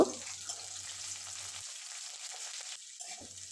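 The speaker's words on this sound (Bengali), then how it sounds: "পেঁয়াজগুলো আমি লাল লাল করে ভেজে নেব" Onion frying in hot oil with a torn dried red chilli and nigella seeds, giving a steady broadband sizzle that holds for a few seconds, close by, with no talking.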